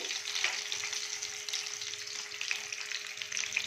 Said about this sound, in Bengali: এবারে আমি এর মধ্যে আলুগুলো দিয়ে দিলাম